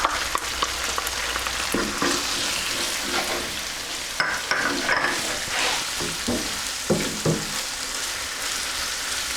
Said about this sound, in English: I'm just going to cook this now for 3 or 4 minutes and then the filling's done